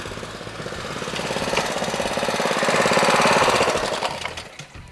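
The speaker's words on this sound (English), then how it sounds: "what's really nice about this pressure washer is you don't have to turn it off in between" A Ryobi 3100 PSI pressure washer with a Honda engine runs with a steady, buzzy engine drone under a hissing spray. The sound swells toward the middle and then eases off near the end.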